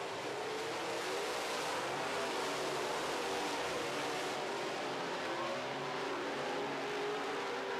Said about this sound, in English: Rick Delane is closing on the 57 car, but he better do it quick if he wants that second spot